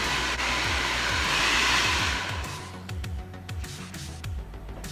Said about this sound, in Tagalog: And then, i-dryer ulit natin.